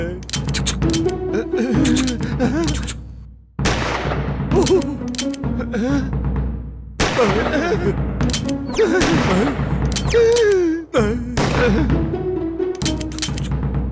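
Cartoon gunfire rings out in repeated bursts of sharp shots and booms, mixed with animated sound effects and a voice in the background.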